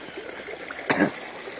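Clear, cold stream water flows and trickles steadily close by, with a brief louder splash partway through.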